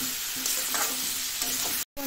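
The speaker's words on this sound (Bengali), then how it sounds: "তো এখন সুন্দর করে নাড়াচাড়া করে নেব।" A spoon stirs lentil fritter curry in a frying pan, giving a steady sizzle with soft scraping strokes throughout and a brief dropout near the end.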